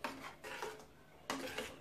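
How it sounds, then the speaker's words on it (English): Spoon scraping a pot while stirring coconut cream into caramel kopai, a Samoan dessert: three rough grating strokes, close and fairly quiet, with no talk. "And you keep stirring it just to get the coconut"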